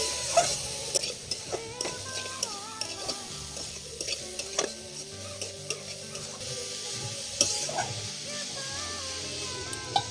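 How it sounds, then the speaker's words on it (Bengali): Grated carrots frying in ghee over low heat for carrot halwa, with a steady soft sizzle beneath repeated scraping and stirring of a spoon against the pan, close and fairly loud throughout. "গাজরটা ভেজে নেব।"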